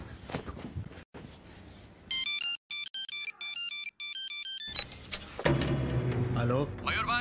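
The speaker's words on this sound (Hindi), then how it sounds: "अरे परेश भाई, सुबह से तुमको कितना फोन कर रहा हूँ मालूम?" A phone ringtone plays loud and close as a bright, repeating electronic melody with short gaps, with voices talking before and after it.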